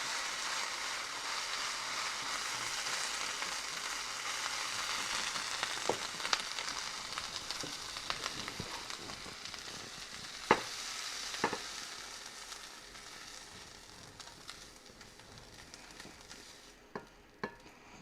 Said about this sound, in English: So now we have our peppers and onions sauteed